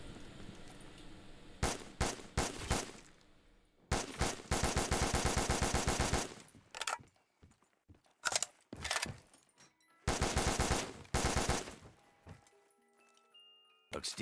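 Video game gun fire in rapid automatic bursts, several loud close volleys separated by short pauses and mechanical clicks, with someone speaking in between.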